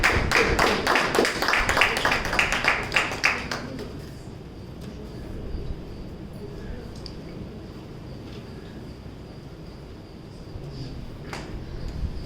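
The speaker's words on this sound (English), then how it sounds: "Shall we have a round of applause?" A club meeting audience claps loudly for about three and a half seconds, then the applause fades into murmuring room noise with scattered faint sounds.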